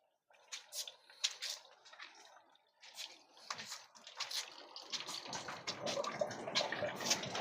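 Sea waves washing onto a beach at night in Motobu, Okinawa: faint, irregular splashes and trickles that build into a fuller, continuous wash of water near the end, heard quietly with no talking.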